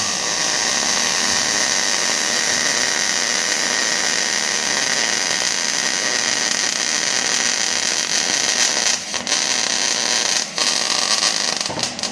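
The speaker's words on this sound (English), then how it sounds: "pre-run your weld and then give it your best shot" Arc welding a bead from an awkward, out-of-position stance, a steady loud crackling hiss running continuously with only brief dips near the end.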